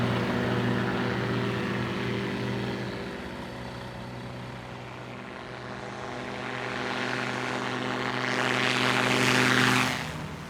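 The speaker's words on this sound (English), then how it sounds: "Coming to line up here on runway 35. At the full power." A light propeller aircraft lines up on runway 35 and runs its engine up to full power, a loud steady drone with strong harmonic hum that swells toward the end as the throttle opens.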